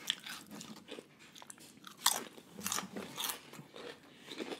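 Close, wet crunching and chewing of slightly burnt nacho chips topped with poke, irregular bites and mastication with a sharp crunch midway, quiet and intimate.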